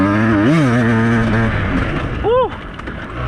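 Beta 200RR dirt bike engine revving during a wheelie, a loud close two-stroke drone that rises and falls in pitch, with a rider's shout and talk on top.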